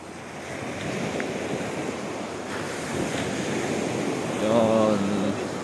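Ocean waves wash onto a beach in a continuous rushing surf, with wind buffeting the microphone and a brief voice-like tone rising near the end.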